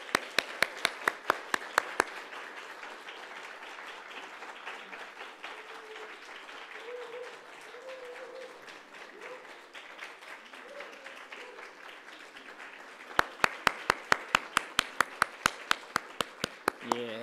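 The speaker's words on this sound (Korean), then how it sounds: "여러분은 박수로 격려해 주시면 고맙겠습니다." At a missionary sending worship service, a congregation claps in steady rhythmic unison at the start, a broader wash of applause and murmuring follows, then sharp synchronized claps return near the end, recorded at a distance.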